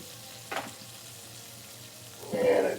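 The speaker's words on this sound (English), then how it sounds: "Fry the flour first." Flour and leftover dredging bits, with a few pieces of beef, fry in a pan for country gravy. A soft background sizzle swells into louder stirring and frying near the end.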